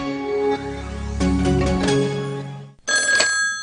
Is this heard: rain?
no